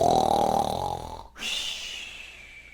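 A voice imitates a loud, drawn-out snore, a rumbling inhale cut off abruptly, followed by a breathy, whistling exhale.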